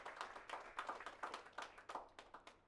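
A small group claps for the Homeless Services Division at a mayor's weekly update in Louisville, a faint run of distinct, fairly quick hand claps that tapers off.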